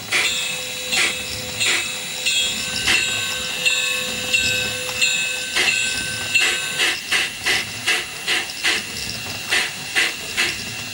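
Rhythmic steam-style chuffing from a large-scale model steam locomotive's sound unit, with a glitch, uneven at first then steadier, with hiss, a thin whistle-like tone and faint mechanical rattles.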